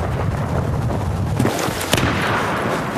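Dense gunfire and booming explosions in the video game Battlefield 4, a loud rumbling barrage with a few sharper cracks rising above it, no clear talking.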